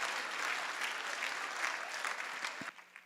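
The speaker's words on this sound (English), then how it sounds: "Round of applause for all of those folks." Charity dinner audience applauding, a steady wash of many hands clapping at even strength, tapering off abruptly near the end.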